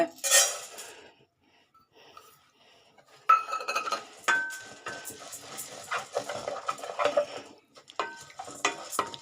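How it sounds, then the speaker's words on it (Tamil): Barley dry-roasted on a low flame in a pan: soft, intermittent scraping and rustling as the grains are stirred, with light metallic clinks of a spoon, close and fairly quiet, no talk. "இப்போது இந்த நம்ம பார்லியும் வறுத்துக்கலாங்க"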